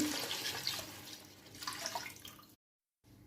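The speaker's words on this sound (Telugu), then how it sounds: "వన్ గ్లాస్ రైస్కి one and half glass water వేసుకుంటున్నానండి" Water poured from a glass onto rice in a cooking pot makes a quiet, splashing trickle for about two and a half seconds before stopping abruptly.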